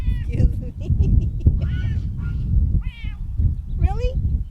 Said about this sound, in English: What's up, kitty? He's a talker, isn't he?